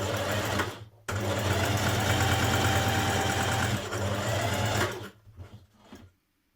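Sewing machine running steadily for about four seconds as it stitches the front facing pieces of a vintage-style dress together at the centre seam, the motor then stopping and starting in short bursts before going quiet.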